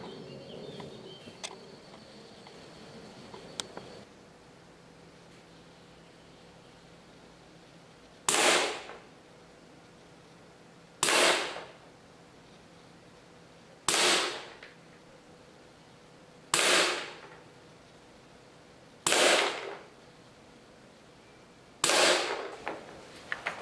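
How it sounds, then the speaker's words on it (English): An Umarex Walther PPQ M2 air pistol fires six sharp, evenly spaced shots at a target, each a loud snappy crack with a brief tail, separated by a few seconds of quiet. "the Walther PPQ M2 shoots fairly well"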